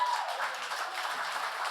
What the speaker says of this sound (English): Don't be too hasty with your applause.